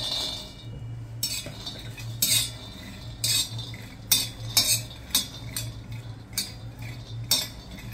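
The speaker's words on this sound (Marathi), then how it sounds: "मंडळी, आपला तवा बऱ्यापैकी गरम झालेला आहे, तर आपण शेंगदाणे भाजून घेऊया" Peanuts dry-roasting on a hot tawa, stirred with a metal spoon that gives repeated scraping, rattling strokes at an uneven rhythm over a low steady hum, close and fairly clear, with no voices.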